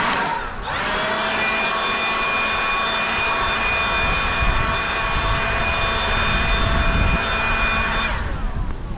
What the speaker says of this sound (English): just grab the blower one last time,